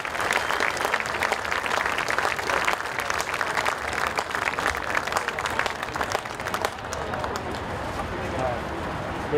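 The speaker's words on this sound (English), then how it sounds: "give the biggest round of applause to the gentlemen that make our youth future so much brighter" A stadium crowd at a Michigan high school football all-star game at Blue Devils Stadium gives sustained, dense applause and cheering that carries on for several seconds and fades slightly toward the end.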